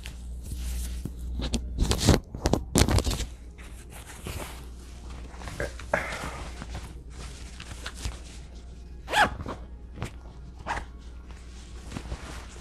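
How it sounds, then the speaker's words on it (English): A zipper on the high soft collar of a Kylo Ren costume, heard in several quick rasping pulls close to the mic, with rustling fabric and handling noise between strokes and no talk. "So you can just zipper that in the front and then swing the zipper around to the back"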